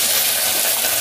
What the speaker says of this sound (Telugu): 3 డొక్కులు నూనె వేసుకుంటున్నాం. ఉల్లిపాయలు వేసుకుంటున్నాం.